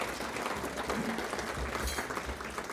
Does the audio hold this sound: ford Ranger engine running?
no